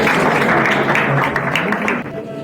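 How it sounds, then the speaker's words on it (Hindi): Audience clapping at a district-level general knowledge competition prize ceremony in Prayagraj, a dense continuous patter of many hands that fades slightly toward the end. "ताली बजाओ भाई, ताली।"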